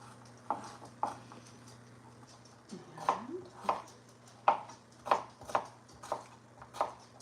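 Knife dicing potatoes on a cutting board, a quiet run of irregular sharp taps, sparse at first and then quicker, with a low steady hum underneath.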